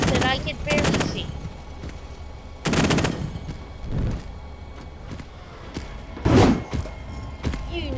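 Gunfire from the video game Teardown comes in several loud, brief bursts spread across the stretch, with thuds in between and a voice talking over parts of it.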